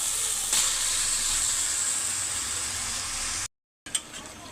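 Mutton pours into a hot pot of spices and onion, garlic and ginger paste for Bengali khasir korma, giving a steady, close, loud sizzling hiss that cuts off abruptly near the end.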